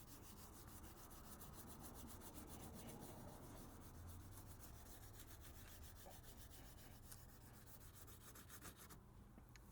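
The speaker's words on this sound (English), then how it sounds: "now it's hitting it because I'm angling the sandpaper" Sandpaper rubbing by hand over surface rust on the outside door of a GMC Jimmy, a steady, quiet, rhythmic scratching stroke that continues for several seconds, close up and alone.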